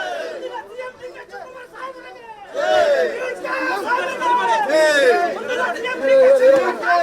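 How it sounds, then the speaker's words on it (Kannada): Congress party workers chant slogans and cheer at the KPCC office, a crowd roaring in rising, rhythmic shouts that swell louder halfway through after a murmuring start. "ಈಗಲೂ ಕೂಡ ಘೋಷಣೆಗಳು ಮೊಳಗ್ತಾನೆ ಇವೆ."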